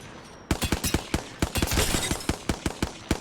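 A weapon in Apex Legends set to single-shot mode fires a rapid series of sharp, loud individual shots, about a dozen evenly spaced cracks with no voices.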